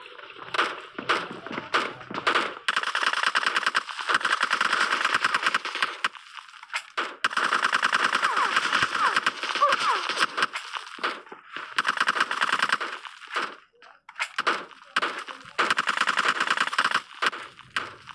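Rapid bursts of automatic gunfire from the mobile shooter PUBG Mobile Lite crackle in dense, loud volleys separated by short pauses, with no talk over them.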